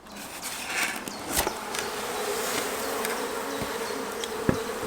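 Honey bees in an opened hive during queen rearing, a dense, loud, continuous buzzing drone close up, with a few sharp taps and knocks scattered through.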